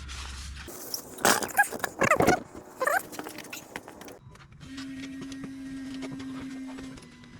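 After a fuel filter replacement, the fuel pump on a Jeep Gladiator EcoDiesel primes with a steady, faint electric hum over the last few seconds, preceded by scattered clicks and handling noises.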